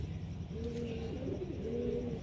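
A pigeon coos nearby in a soft, repeated rolling call, two low tones layered over a faint background hum, with no voices.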